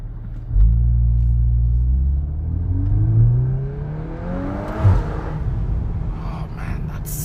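A 2024 VW Golf 8 R engine revs hard from inside the car, its flat-toned pitch climbing high in a long sweep, then dropping and rising again, loud and close, before settling to a steady drone.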